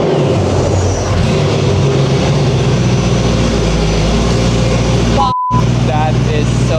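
A Mercedes SLS AMG GT3 with a straight-pipe exhaust, Weistec downpipes and a Weistec supercharger runs with a very loud, close, continuous rumble. A brief dropout comes near the end, then the noise returns.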